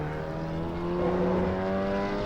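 A Volvo S60R engine in the Assetto Corsa racing game gives a steady, droning hum that holds at a constant pitch, with no talk over it.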